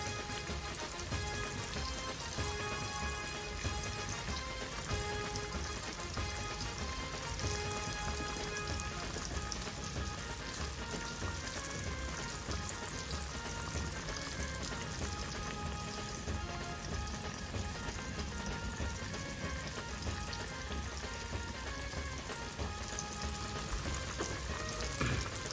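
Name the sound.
Bombay duck (bombil) fish sizzling as it fries in pan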